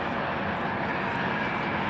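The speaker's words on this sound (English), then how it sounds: "As the helicopter goes over." Helicopter passing overhead at a seaside promenade at sunset, a steady broadband rotor and engine rumble that stays loud and even throughout, with no talk.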